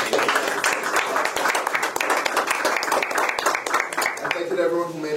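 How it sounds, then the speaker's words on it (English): Applause from a gathered audience, a run of sharp, closely spaced claps from a modest group, fairly near and steady, thinning out just before a voice starts speaking at the end. "if we could get a big round of applause, please"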